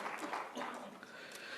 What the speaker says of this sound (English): A round of applause to Hybiz people also.